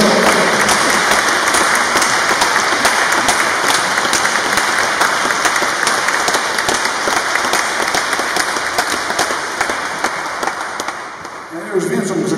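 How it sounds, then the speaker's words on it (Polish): Sustained, dense applause from an audience at a parish film premiere, loud and continuous before tapering off near the end. "brawa dla tych wszystkich Państwa w obecnym"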